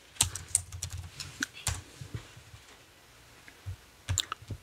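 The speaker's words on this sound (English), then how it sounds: "So we're going to go here and type newsletter." Someone types on a computer keyboard in brief bursts of quiet close key clicks with short pauses, no talking.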